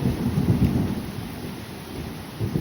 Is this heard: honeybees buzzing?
no